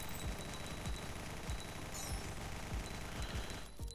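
Rapid weapon fire from the video game Guncraft Survivors, a steady stream of sharp repeated shots at a fairly even rhythm, loud and close, running almost the whole way before cutting out at the end.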